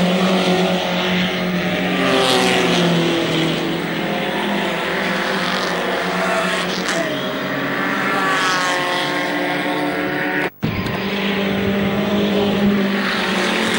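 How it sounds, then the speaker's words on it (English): Group 1 touring cars race at Mallory Park in 1974, their engines roaring close and loud as they pass in a continuous stream of overlapping whines and rising pitches, with a brief dropout near the end. "Group 1 racing, the real motor racing in Great Britain"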